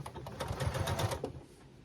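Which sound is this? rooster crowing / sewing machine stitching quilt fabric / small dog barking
sewing machine stitching quilt fabric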